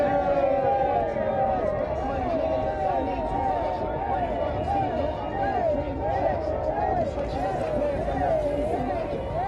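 A dense crowd noisily celebrating the end of a city procession, with loud motorcycles revving and warbling through the babble, a continuous heavy wash of voices and engines with a person talking over it.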